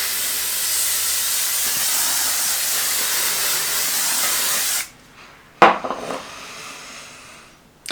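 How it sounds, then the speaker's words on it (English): A L'Oreal Paris aerosol setting spray hisses steadily onto a face in a long continuous mist, close and loud, then cuts off, followed by a quieter short burst. "keep your eyes closed while it is misting, because she's hairspray, mate"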